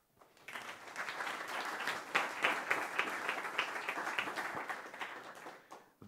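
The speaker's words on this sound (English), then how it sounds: "Please give him a warm applause." An audience applauds to welcome a speaker onto the stage at a tech talk, steady broadband clapping that swells after a brief build-up and fades toward the end, with no talk over it.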